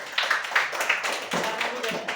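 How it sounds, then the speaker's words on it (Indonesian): A classroom of students claps for two classmates, a short, uneven burst of hand claps close by, with a voice speaking over it. "tepuk tangan buat kedua teman kalian"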